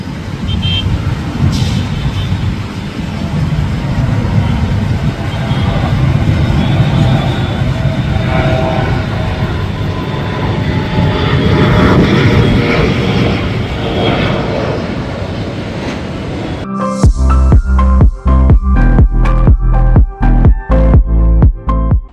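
A loud, continuous roar of a 72-seat Star Air passenger airliner's engines builds and rushes steadily during takeoff from Solapur, then gives way to rhythmic heavy thumping and rumbling near the end.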